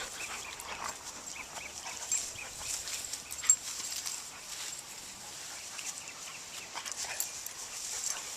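Dogs playing outdoors, with faint whimpers, yips and scuffling at a distance, quiet and irregular.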